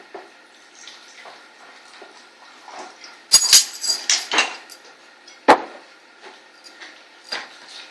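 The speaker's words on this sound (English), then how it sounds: "Third of your vodka, that is. Stirring as we go." Vodka poured into a pitcher of sangria and stirred, giving faint liquid trickles followed by a series of sharp spoon clinks and knocks against glass, with one louder strike and scattered quieter taps.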